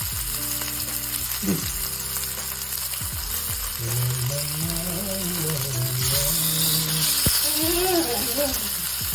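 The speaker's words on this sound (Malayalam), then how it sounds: "ഞാനാട്ടോ പൊരിക്കുന്നത്." Mackerel and sardines sizzle and crackle steadily in hot oil, with people talking over the constant frying.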